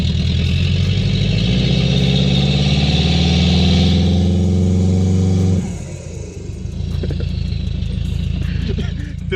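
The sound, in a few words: Ford Fiesta ST engine idling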